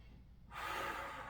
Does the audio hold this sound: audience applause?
no